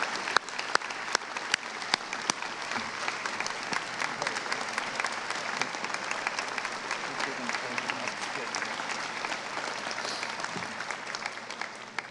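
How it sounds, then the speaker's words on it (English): Sustained applause from a sizable audience at a high school graduation ceremony, steady and even throughout, with scattered sharper clapping standing out near the start. "Another round of applause, please."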